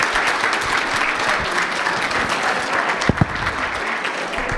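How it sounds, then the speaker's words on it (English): A crowd at a candidate forum claps steadily for school board candidates, a dense patter of applause lasting several seconds, with a couple of sharper claps near the end. "let's have a round of applause for all our school board candidates"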